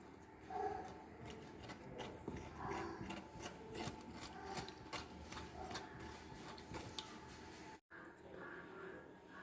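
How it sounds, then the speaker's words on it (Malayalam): A knife scrapes and peels the skin off a stingray with its tail cut off, making faint, repeated rasping strokes in a quiet kitchen, broken by a brief dropout near the end. "നമുക്ക് ഇതുപോലെ ഇങ്ങനെ തൊലി കളഞ്ഞെടുക്കാം"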